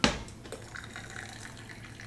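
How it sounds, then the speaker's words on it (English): Freshly steeped roasted oolong tea, a first quick gong fu infusion, pours out in a soft steady trickle after a brief initial splash, close and quiet with no talking. "I'm gonna pour out this first quick infusion here."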